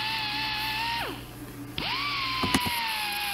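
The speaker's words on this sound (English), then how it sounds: "my air compressor is pretty small and struggles to keep up" A small air compressor struggles to keep up while polishing cylinder head combustion chambers: a high air-tool whine sags and winds down, then spins back up, with a few sharp ticks afterward.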